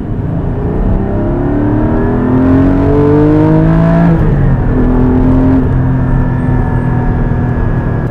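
A Porsche 718 Cayman GT4 sports car drives at speed, its engine note rising and falling through revs in a steady, loud, close drone with no talk.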